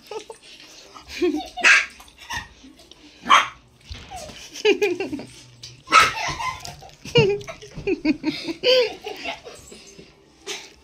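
Pet dog at home being fed raw mango pieces, giving several short barks and yelps mixed in with people talking and laughing nearby.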